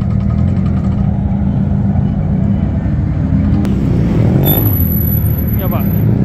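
A car's exhaust rumbles with a deep, steady low drone as vehicles arrive at a car meet at Fuji Speedway. The engine sound stays loud and close throughout, with voices talking over it.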